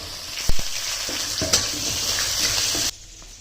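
Raisins frying in hot oil in a wok alongside cashews and peanuts, a dense close sizzle with spoon knocks and scrapes, cutting off abruptly near the end.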